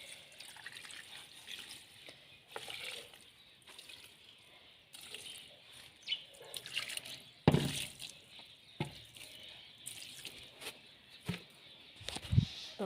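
Water trickles and splashes intermittently while young tomato plants are watered in a village garden at night, with quiet gaps between pours and a few louder splashes.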